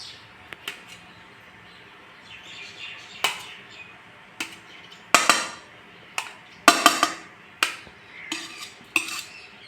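A knife cuts potatoes into halves for a village-style bhungla bateta, giving a string of sharp, close clicks and taps against a board or pan, sparse at first and then quicker and louder, with no talking.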